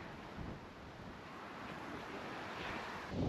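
Steady wind roaring across an open microphone in Kyrgyzstan, broadband rumble with gusts that swell slightly toward the end, no voices.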